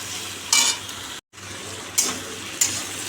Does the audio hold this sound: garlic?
yes